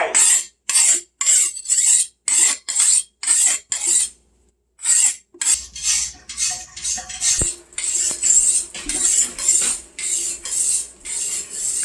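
A knife is sharpened in a kitchen while chicken is prepared, giving repeated rasping strokes in a steady rhythm, close and loud, with a short pause midway and some clinking of utensils afterward.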